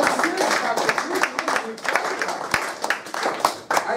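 High school audience applauding at a motivational talk, scattered claps and bursts rising and falling over a few seconds, with voices mixed in throughout.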